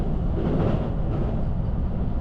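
Steady low rumble of a JR West Special Rapid train on the Kosei Line rolling along the rails near Osaka, heard from inside, constant and close, with no voices and no distinct clatter standing out.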